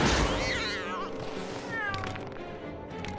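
A cartoonish cat in the Lego Harry Potter video game lets out a series of loud, drawn-out meows and wails after being shot, close and clear over faint game background.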